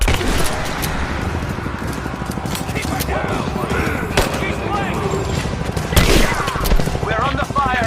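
Rapid bursts of gunfire crack through a Rise of the Tomb Raider firefight at a village edge, loud and close, with sharp shots and a boom near the end while voices speak over the action.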